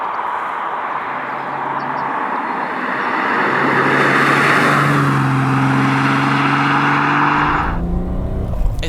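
A turbocharged 1992 Lotus Carlton engine revs up hard and steadily, its roar climbing in pitch as the turbos spin up near 3,000 RPM, loud and close throughout, then drops off sharply at the end.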